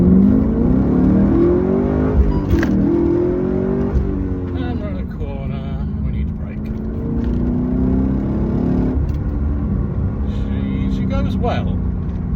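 An HSV R8 Clubsport, a heavy 1830 kg sedan, accelerates hard from the cabin. Its engine note climbs steadily in pitch through several gear changes, with a strong, continuous drone.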